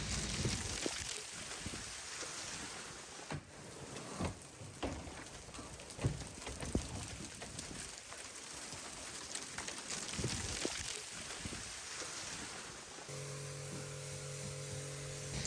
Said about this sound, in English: I got absolutely soaked by a thunderstorm and hail